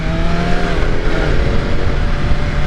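A 2022 BMW S1000RR M Edition sport bike engine pulls hard and steadily under acceleration, a loud continuous roar with rising tone heard close up, mixed with wind buffeting and no speech.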